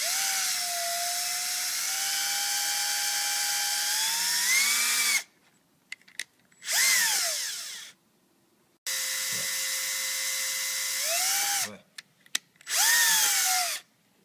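A power drill bores two holes into a PVC pipe: two long, high whining runs, each winding down with short clicks and a brief rev before it stops.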